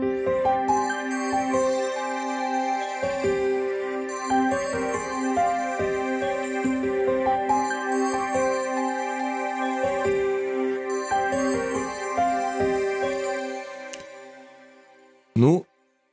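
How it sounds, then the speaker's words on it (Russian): Full piano melody for a dark plugg beat, layered sustained notes and chords with a low bass line underneath, playing steadily for about fifteen seconds before cutting off with a short sweeping sound. "И, то есть, в совокупности мелодия звучит вот так."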